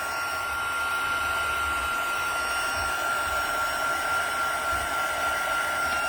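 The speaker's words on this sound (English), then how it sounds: "So I am bringing out the heat tool." Heat tool blows hot air over a stamped paper card in a steady, unbroken whir with a constant high whine, close and fairly loud throughout, with no speech.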